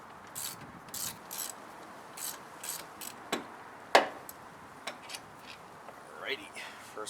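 A ratchet wrench loosens a strut bolt on an old Nissan Sentra, with intermittent clicking bursts and sharp metallic clinks spaced across the stretch, fairly faint and close, under occasional talk.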